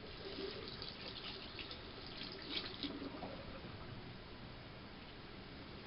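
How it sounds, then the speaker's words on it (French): Hot water runs steadily from a tap into a sink during a hair-care routine after flat-iron straightening, a continuous close rushing stream with no talking. "je laisse de l'eau chaude"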